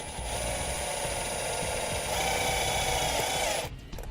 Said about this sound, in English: Get our self-tapping screw in place and just run it in.